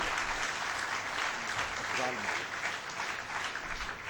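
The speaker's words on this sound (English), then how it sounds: "Let's hear a big round of applause for the 14th president of ICAP, Mr. Afzal Munif" Steady applause fills a conference hall at a golden jubilee event as an audience welcomes a former institute president, with a voice briefly heard over the clapping.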